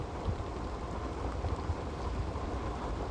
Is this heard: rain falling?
yes